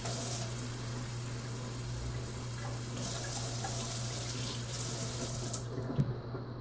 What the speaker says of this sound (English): you take and fill up to this line with water